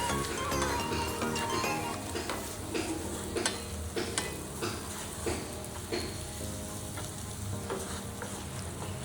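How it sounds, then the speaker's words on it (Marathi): Ginger-garlic paste and mutton masala stirred in sizzling oil for paneer bhurji: a steady, close frying hiss runs throughout, broken by repeated scraping and clinking strokes of a spoon against the pan, with no talking. "हे परत चांगलं हलवून घ्यायचं आहे तेल सुटेपर्यंत"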